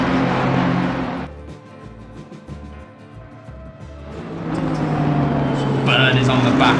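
A pack of GT race cars in Assetto Corsa Competizione at Mount Panorama roars past a slower back marker, loud engine drone under a commentator's continuous talk, dipping in the middle before the engine noise swells again.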